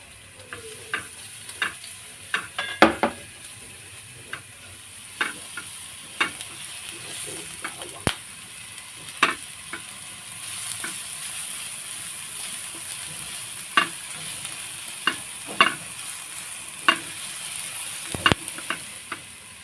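Garlic sautéing in hot oil in a home kitchen, a steady soft sizzle broken by sharp clicks and scrapes of a utensil stirring against the pan at irregular intervals, with no talking.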